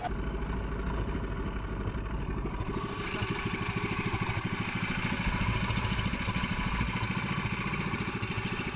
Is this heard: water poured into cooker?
no